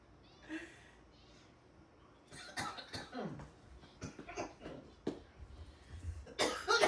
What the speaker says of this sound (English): Why does cold stuff make me cough?